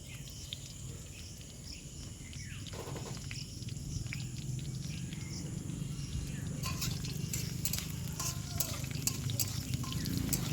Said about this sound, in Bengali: এবার এগুলোকে এক মিনিটের জন্য একটু ভেজে নেব